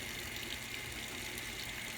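Water steadily pouring into a portable washing machine as it fills, a continuous close rushing flow with no talk over it.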